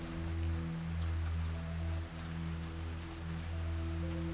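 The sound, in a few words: pouring rain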